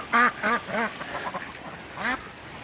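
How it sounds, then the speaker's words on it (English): Ducks on the water give a run of four loud, close quacks in the first second, a softer rising call, then one more loud quack near the end, with no talk. "I've never seen the ducks swimming in there."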